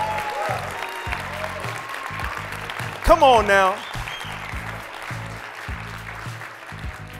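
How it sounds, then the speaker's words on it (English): A conference audience in Las Vegas at a leadership session in the event's 25th year claps throughout, mixed with rhythmic background music. A voice shouts briefly partway through. "Can you give yourself a real round of applause for being here in Vegas, 25th year?"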